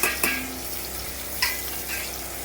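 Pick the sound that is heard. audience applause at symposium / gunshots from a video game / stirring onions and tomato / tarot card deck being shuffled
stirring onions and tomato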